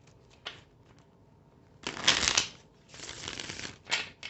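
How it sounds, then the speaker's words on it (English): A tarot deck being shuffled during a reading, a few light riffle bursts and soft flutters in quick succession, close and crisp with no talking. "Let's give it a good shuffle."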